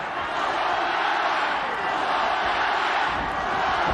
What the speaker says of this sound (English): Crowd really getting into this one.